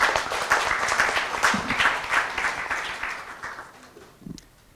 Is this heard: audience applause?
yes